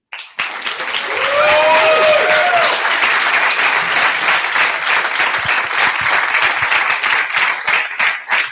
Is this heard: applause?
yes